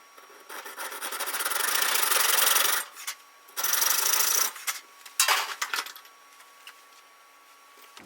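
Rough rasping strokes of a file cutting a notch in a metal tap handle, two long sustained passes followed by a few shorter scrapes, close by, then quiet.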